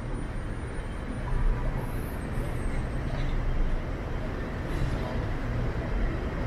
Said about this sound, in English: lots of traffic